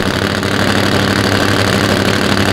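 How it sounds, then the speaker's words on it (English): A Top Fuel drag bike running an engine based on the old Kawasaki KZ1000, heard at a professional drag racing championship as a loud, steady, close engine drone with no break. "Both of them running engines that are based on the old KZ1000."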